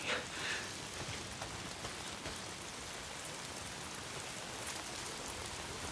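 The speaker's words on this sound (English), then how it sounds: "If it's not the freaks, it's the goddamn rain." Steady rain falls in the open-world video game Days Gone, making a soft, even hiss of drops that continues throughout with no voices.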